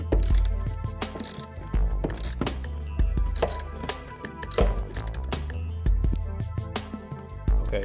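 A ratchet clicks rapidly in repeated bursts while loosening bolts on a Trailblazer throttle body, with close metallic pawl chatter and occasional clanks of tools and parts.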